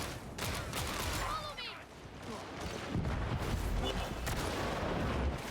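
Gunfire from a video game crackles in bursts of sharp shots against a dense, busy mix of game sounds, with some talk or voice-like tones along the way.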